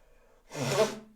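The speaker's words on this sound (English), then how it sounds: "Sorry about the sneeze." A single person's sneeze, a sharp broadband burst after a quiet, faint intake of breath, close to the mic during a Minecraft gameplay session, with no talk during it.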